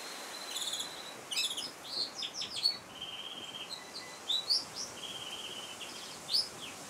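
Birds and insects in the Irish countryside: a steady insect drone runs underneath while several birds chirp and trill in short, quick bursts, fairly distant and quiet, with no talking.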